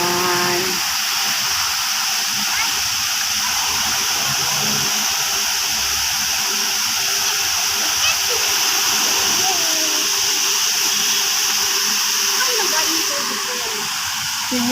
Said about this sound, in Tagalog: Malakas yan, water pump yan.